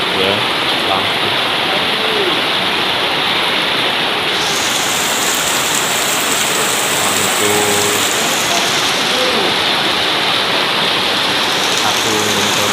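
Heavy night rain pours down steadily and loudly, a dense unbroken roar close at hand, with faint indistinct voices beneath it.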